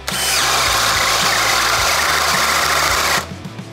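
A DeWalt drill driving a 1.25-inch self-feeding spade bit through a 4x4, a loud steady high-pitched whine with a low grinding hum that runs nearly continuously, then drops off sharply near the end.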